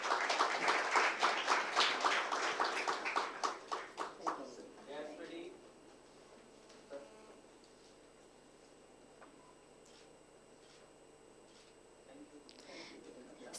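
A conference hall audience at a life sciences conference applauds loudly as the chief guest, a professor, is called to the stage; dense clapping fills the first five seconds, then fades into a quiet room with scattered faint sounds.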